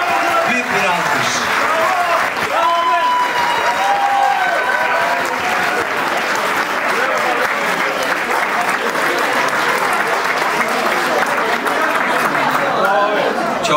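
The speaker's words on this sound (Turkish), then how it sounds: "Büyük bir alkış hak ettiler yani şimdi." Dense, loud audience applause fills a hall at a Canadian celebration of the Turkish Republic's 100th anniversary, sustained steadily throughout with some crowd voices mixed in.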